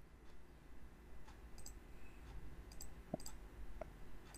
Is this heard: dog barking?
no